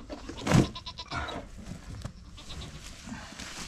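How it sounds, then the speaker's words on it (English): Goats bleat as they are fed on a farm: one loud, close cry near the start, then softer scattered bleats and rustling. "All right, we'll let the goats eat that."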